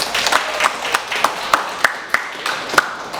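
Sparse applause from classmates at the close of an Indonesian history-of-education lesson, heard as a few scattered, fairly sharp claps spaced through a soft background.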